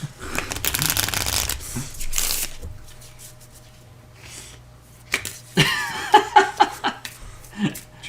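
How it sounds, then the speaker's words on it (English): A deck of playing cards shuffled during a tabletop run-through of the game Forest of Radgost, with quick riffling bursts near the start and later, mixed with laughter and chuckling from players at the table. "So I will randomly shuffle the 2 of these."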